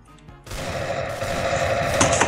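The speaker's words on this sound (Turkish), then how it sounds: "O AWP sesi falan var ya acayip oluyor." A loud, sharp AWP sniper rifle shot from CS:GO cracks out and rings on with a sustained reverberant tail, followed by a second burst near the end.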